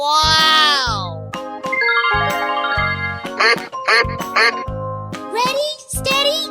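A cartoonish duck quacks in a 3D animal slide video game amid bright jingling game chimes and tones, with a voice repeatedly imitating the quacking in a playful sing-song.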